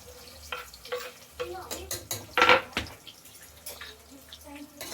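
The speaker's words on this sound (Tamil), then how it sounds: "ஓகே, 3 ஆனியன் சேர்த்துக்கிறேன்." Sliced onions, three of them, go into a pan on a low flame while biryani is cooked, giving clattering pan and utensil knocks with soft frying and stirring sounds in a quiet kitchen, no talk over it.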